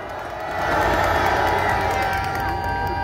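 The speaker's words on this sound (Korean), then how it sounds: "큰 박수 부탁드립니다" Crowd at an outdoor political rally on the eve of the March 1st holiday, applauding and cheering in a loud sustained roar that swells after the first half second and holds steady.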